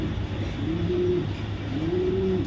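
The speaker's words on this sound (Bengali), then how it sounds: "কোয়ালিটি দেখেন, এটা হচ্ছে মাদি কবুতর" Imported racing pigeons, hen and cock, cooing close by in repeated low, rolling coos over a steady background hum.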